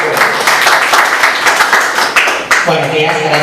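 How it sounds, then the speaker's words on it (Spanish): Audience applause at a Spanish-language video conference, a steady wash of clapping from many hands running throughout at moderate loudness, with a voice starting to talk over it near the end. "Vamos nuevamente a reiterarles nuestros aplausos, por favor"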